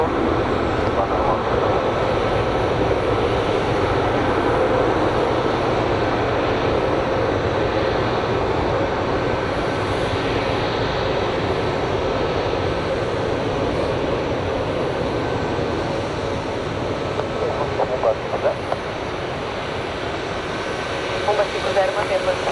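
An American Airlines airliner lands at Guarulhos airport, its loud, steady engine roar filling the whole stretch without a break, with faint voices underneath.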